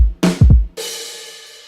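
A programmed Addictive Drums pattern in an FL Studio beat: a deep kick, then a couple of punchy drum hits followed by a ringing cymbal that decays out, short and loud with no voices.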